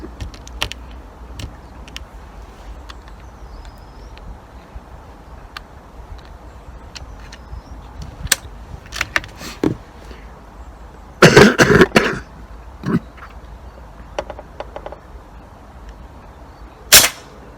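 An AP900 air rifle fires a single shot at a small target outdoors, a sharp close crack over quiet background with a few other brief knocks.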